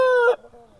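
The loud, brassy end of an Aseel rooster's crow cuts off abruptly, followed by a faint, quiet tail.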